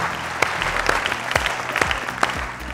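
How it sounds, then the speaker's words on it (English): A studio audience at a televised quiz competition applauds for the show's sponsors, a dense, steady wash of clapping with a few sharp individual claps standing out. "A big round of applause for our"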